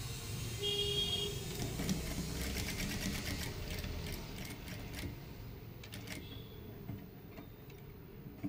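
Sewing machine running steadily while stitching a half collar neck on a blouse, a continuous close mechanical whir with fine ticking texture, slowing briefly near the end, with no talk.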